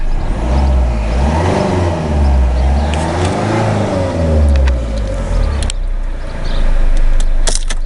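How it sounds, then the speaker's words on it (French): Close, loud revving of a Citroën C2 HDi diesel engine during a home decarbonizing session, several throttle sweeps rising and falling before the engine settles, followed by brief clicks and rattles. "Il y a des coups de gaz."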